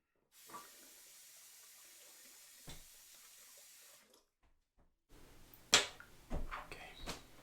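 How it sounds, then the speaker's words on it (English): Tap water runs steadily into a sink during a wet shave, a soft continuous hiss for about three and a half seconds that then cuts off, followed by louder clinks and handling clatter. "I'm going to use some water."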